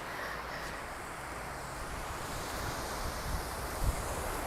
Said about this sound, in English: We love the sound of the sea.